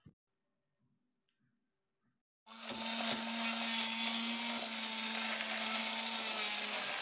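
A blender runs steadily at full power, whirring mango and other ingredients into a shake, starting abruptly after a quiet moment and holding a loud, even motor drone close by.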